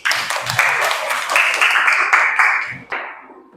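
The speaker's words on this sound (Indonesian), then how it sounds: "Tepuk tangan untuk kita semua." Classroom children clap their hands together, a quick patter of close claps that builds and then trails off, with some voices and a sustained tone running through it.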